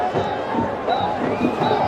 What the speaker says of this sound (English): this large crowd here today, a very noisy crowd, have been treated to terrific entertainment